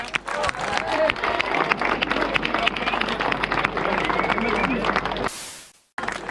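An audience at a trophy ceremony applauds loudly and continuously, dense clapping mixed with crowd murmur and chatter, ending in an abrupt burst of noise and silence.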